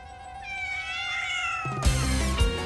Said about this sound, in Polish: Koty! One gonią tego pieska i Kasię